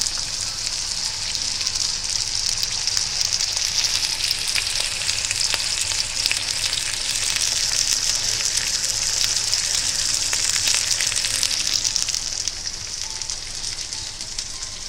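Steady, loud sizzling and crackling of tomatoes frying in a hot pan, continuous throughout with no talking.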